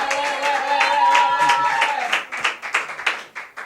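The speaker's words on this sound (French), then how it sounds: "on applaudit très fort" An audience applauds at a French-language diploma ceremony, the clapping rising sharply after a voice and continuing as a run of distinct claps close by.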